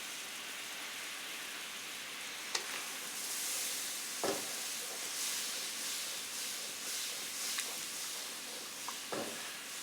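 Cornstarch sauce thickening in a pan while stirred constantly: a steady, soft hissing bubble and sizzle throughout, broken by a few faint spoon scrapes against the pan, close and quiet, with no talking.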